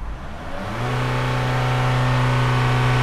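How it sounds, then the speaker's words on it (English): A Chevrolet Captiva with a blocked diesel particulate filter is revved and held, its engine rising to a steady loud drone with strong low harmonics that sustains for several seconds, no talking. "So when I'm revving the car, it's hitting about 3-4 PSI, KPA."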